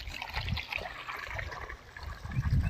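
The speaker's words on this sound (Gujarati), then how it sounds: "જો કૂવાનું પાણી તો હાવ થોડું થોડું આવે છે જુઓ" Well water trickles into a farm field in a thin, uneven flow, a soft continuous gurgle and splash close by with low rumbling underneath and no talk.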